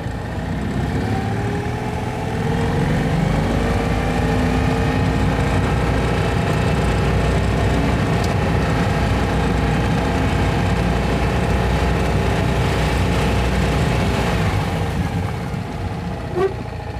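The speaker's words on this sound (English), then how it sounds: "Tick over sounds a little high." A Citroen 2CV twin-cylinder engine, freshly rebuilt with new pistons and barrels at 209,000 miles, ticking over fast with the choke not closing; a loud, steady, buzzing idle held close for the full length, with no speech.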